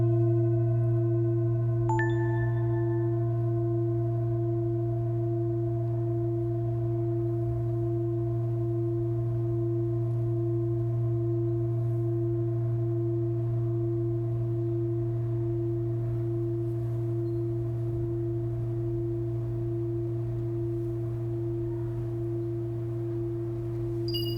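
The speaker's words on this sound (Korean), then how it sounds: "원장 선생님이 큰 싱잉볼 소리를 들려줄게요." A large singing bowl is struck once and then rings with a sustained, steady tone that hums on for over twenty seconds with barely any decay, alone in a quiet room.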